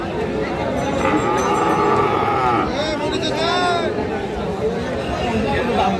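A Holstein Friesian bull calf moos in long, drawn-out calls at a busy cattle market, loud and close, over steady crowd chatter and nearby voices talking.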